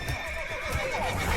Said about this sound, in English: Someone get these horses tied up.